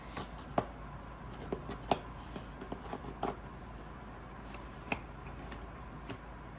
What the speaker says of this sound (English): You're just trying to lift the coconut and get it out of the shell